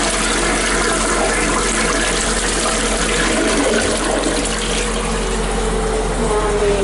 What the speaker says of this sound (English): the toilet is flushing